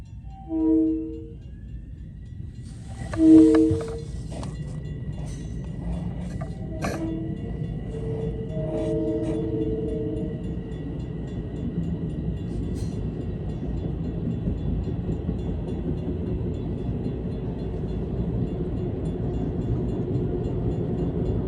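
A ten-car LIRR M3 electric multiple-unit train passes on the Main Line, opening with two short tonal horn-like blasts, then a steady broadband rumble and rail noise that holds for the rest of the pass, with faint creaks.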